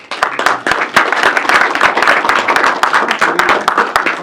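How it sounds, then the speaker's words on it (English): Audience applause at a city council meeting, a dense run of hand claps with sharp individual claps standing out, steady and fairly loud for the full length, with no talking over it. "Let's give them a round of applause."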